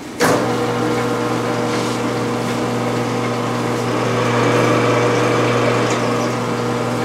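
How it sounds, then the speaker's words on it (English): A dough sheeter at a pizza shop rolling floured pizza dough, a steady motor drone with a low hum that starts abruptly and runs evenly throughout, with no talking. "she's going to flour that up and then proceed to put that through the Sheeter"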